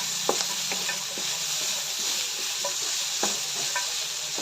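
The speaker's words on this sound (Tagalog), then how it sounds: "Pinatuyuan ko muna ang baboy at pipirituhin siya sa sarili niyang mantika." Pork fries in its own rendered fat, giving a steady close sizzle with scattered sharp pops and crackles and no voices.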